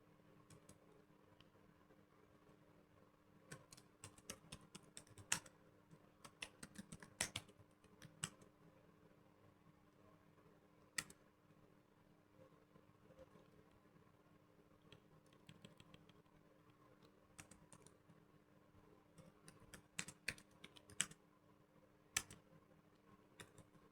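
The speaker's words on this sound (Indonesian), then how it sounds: "isi informasinya ini kita ketik singkat aja" Typing on a computer keyboard, quiet irregular bursts of key clicks over a faint steady hum, close and soft, with no voices.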